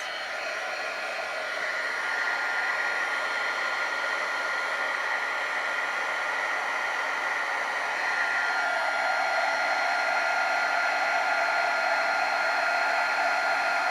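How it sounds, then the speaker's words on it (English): Continuous loud whooshing roar of a heat gun blowing hot air, steady throughout with a slight shift in tone. "Here's my heat gun."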